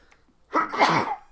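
A single sharp sneeze from a male cat, close and fairly loud, bursting out of near silence and lasting under a second.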